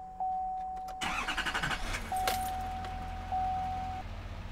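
Duramax diesel truck heard from inside the cab as a chime rings, the starter cranks briefly and the engine catches, then settles into a muffled, steady idle with the chime returning.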